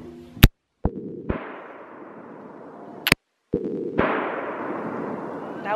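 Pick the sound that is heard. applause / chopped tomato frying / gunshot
gunshot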